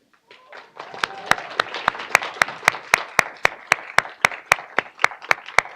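Steady audience applause at an induction ceremony for imaging students, building from scattered claps into a sustained round with sharp, evenly spaced loud claps standing out near the front.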